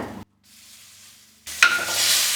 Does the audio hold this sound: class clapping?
no